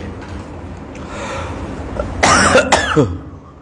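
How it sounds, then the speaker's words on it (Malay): A couple of close, harsh coughs in quick succession, loud against a quiet room, trailing off into a throaty rasp. "Hanya batuk pula weh."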